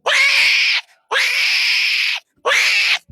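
A person imitates a cat with three long, strained yowling cries, loud and close, separated by brief pauses.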